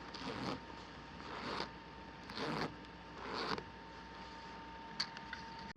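A zipper on a snap-and-zipper lubrication demo is worked back and forth in several short, quiet rasping runs, with a faint tick near the end.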